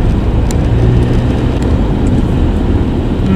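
Steady, loud road rumble from inside a car moving through traffic, a continuous low drone of engine and tires with no break.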